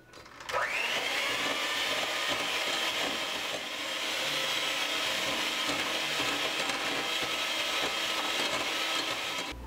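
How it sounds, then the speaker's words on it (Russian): Two eggs being beaten in a mixing bowl for muffin batter, a steady loud electric whirring that holds almost unbroken for several seconds. "Собираем все со стенок миски и продолжаем дальше взбивать."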